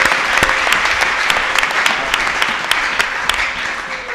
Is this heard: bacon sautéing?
no